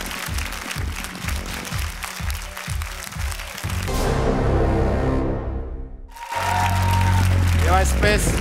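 A studio audience at the X-Factor Armenia talent show applauds loudly, the clapping building then cutting off abruptly before a host talks over music.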